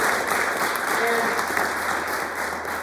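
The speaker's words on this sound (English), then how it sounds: "So I want us to give them a round of applause once again." An indoor audience claps together in continuous applause, dense and even at moderate volume, with a faint steady hum beneath.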